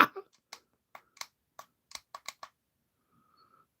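Computer keyboard typing, a dozen or so crisp separate key clicks in an irregular run, close and clear against a quiet background, followed by a brief faint tone.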